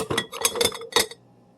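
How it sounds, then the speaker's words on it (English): A metal spatula scrapes and clinks against a pan and plate as sausage, egg and cheese breakfast sliders are lifted out, giving four quick close clatters before falling quiet. "I'm going to grab my spatula here."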